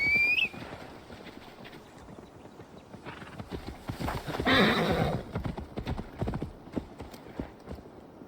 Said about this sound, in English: Now to deliver Magni's horse.